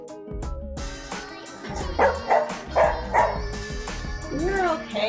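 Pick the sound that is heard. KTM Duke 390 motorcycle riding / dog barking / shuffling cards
dog barking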